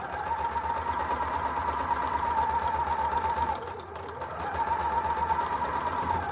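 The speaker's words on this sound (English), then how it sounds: "we're going to stitch all the way around this whole thing, pivoting at the corners" A sewing machine stitches steadily around a fabric face mask with a quarter-inch seam, a continuous close mechanical whirring hum that dips briefly midway when pivoting at a corner, then resumes.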